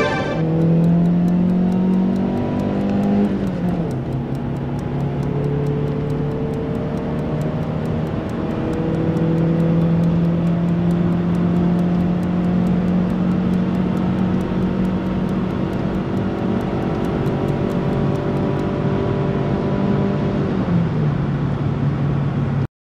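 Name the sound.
small car driving on the road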